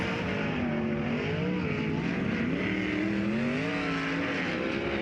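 Sprint cars on the dirt track at Fremont Speedway accelerate up to speed during a Kubota High Limit Racing qualifying session, their engines snarling loudly and continuously with rising and falling pitch.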